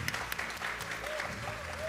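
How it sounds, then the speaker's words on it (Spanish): Studio audience applause at a late-night comedy talk show taping, a steady crowd clapping with sharp individual claps, a whistle-like tone sliding through the middle, lasting under two seconds. "aplauso, por favor, aplauso, aplauso"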